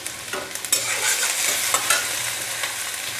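Steady oily sizzle of small potatoes frying in oil in a pan, with occasional scrapes and stirring clatter, close by and fairly loud throughout.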